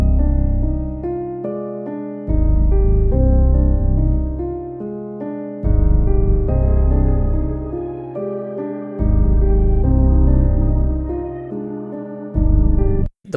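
Beat built in Logic Pro X with a new piano melody played on a Noir piano instrument, repeating chord-and-melody phrases over heavy bass and drums, loud and steady with brief drop-outs between sections.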